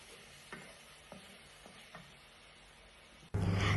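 Tomato, chilli powder and turmeric being stirred in a kadai for a Bengali cabbage dish, with several soft scraping strokes over a quiet background, then a sudden loud burst of sizzling frying near the end.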